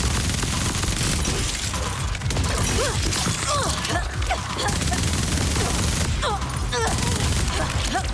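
Shotgun fire in Borderlands 4, a dense barrage of loud, rapid blasts filling the whole stretch with game effects and no pause in the din.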